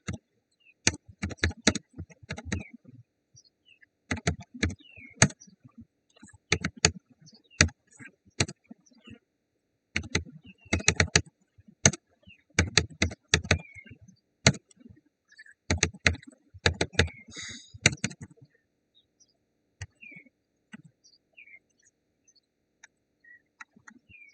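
Bursts of clicky typing on a computer keyboard while entering names into a Microsoft Word document, coming in rapid runs of keystrokes separated by short pauses, close and clear, with a few sparse taps toward the end and no talking.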